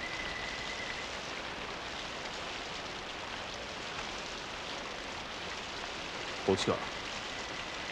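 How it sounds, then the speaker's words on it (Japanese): Steady heavy rain falling on a rainy day in an Edo-period samurai drama scene, an even broadband wash throughout with a brief short voice near the end. "酒洗いの雨降りやまぬこの日"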